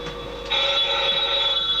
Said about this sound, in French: le téléphone sonne dans mon bureau